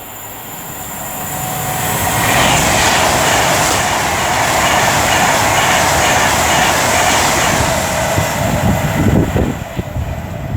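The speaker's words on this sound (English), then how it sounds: "now approaching will be 390-114 for Avanti West Coast, working 1 Alpha 29 from Manchester Piccadilly to London Euston" An Avanti West Coast Class 390 unit 390-114 on the West Coast Main Line at Rugeley Trent Valley runs through the station, a loud, steady roar of wheels and rushing air that builds and holds for several seconds, with faint clatter near the end.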